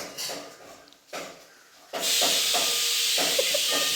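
Onions hit hot fat in a pan while ghee rice and meat are cooked, with a few short bursts, then a loud, continuous close hiss and sizzle that holds steady to the end.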